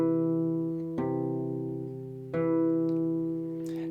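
A steel-string acoustic guitar in a fingerstyle lesson plays a thumb pattern alternating between the fifth and fourth strings. Two clear plucked bass notes ring out about a second apart and sustain close up, with no talking.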